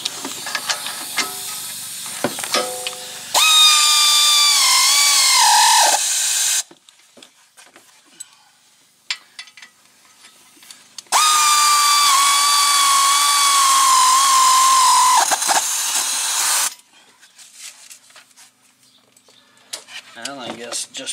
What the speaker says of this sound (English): And when it started, then you can take a wrench and just tighten up with the wrench.